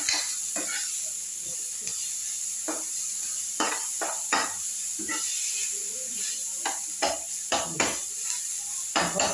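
Ginger, garlic and onion paste frying in a pan, a steady hiss of sizzling broken by repeated sharp scrapes and stirs of a spoon against the pan.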